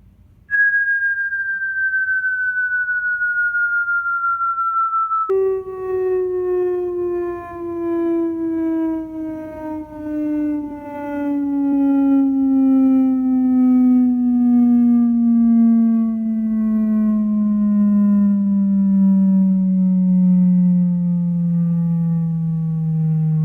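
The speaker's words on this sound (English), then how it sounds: "So let's also do a frequency test." A steady electronic tone holds briefly, then a buzzy tone with harmonics sweeps slowly downward in pitch for about twenty seconds, loud and continuous, from a JBL Xtreme mini Bluetooth speaker.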